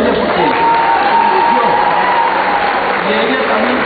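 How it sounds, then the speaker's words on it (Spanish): A church gathering breaks into a dense wash of applause and crowd noise for the woman who decorated the temple, sustained throughout with voices rising over the clapping. "vamos a darle un gran aplauso a ella"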